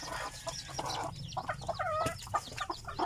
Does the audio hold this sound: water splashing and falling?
no